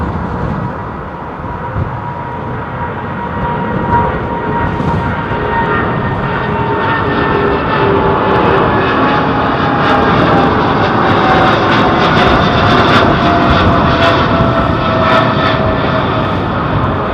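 Jet airliner departing London Heathrow Airport on a low climb-out, a loud sustained engine roar that holds steady and swells slightly, with a broad rumble and whining tones throughout and no talk.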